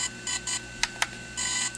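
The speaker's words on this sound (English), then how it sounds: "when the sound changes to this, where it's three beeps, one long, two short, that means it's complete" A DJI Phantom 3 drone signals a completed firmware update with repeated electronic beep patterns, longer tones mixed with short sharp chirps, close and clear with no voices.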